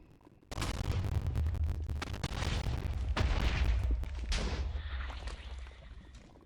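Explosion in modded Minecraft: a sudden loud blast followed by a sustained rumbling, crackling roar that fades gradually over several seconds, with no talking.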